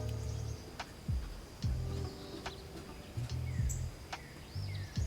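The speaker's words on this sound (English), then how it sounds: "clearly that sounded like a woodpecker" A woodpecker's sharp, dry knocks land singly at irregular intervals, hollow-sounding and close, over a steady low mechanical hum and faint birdsong.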